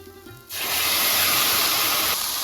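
Tomatoes tipped into a pan of golden fried onions for methi leaf dal bring a sudden loud sizzle that bursts in and holds as a steady, hissing roar, easing slightly near the end. No voices.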